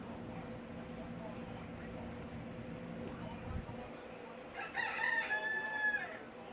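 A rooster crows in the distance late on, its call rising clearly over steady background noise and a low hum in a workshop setting.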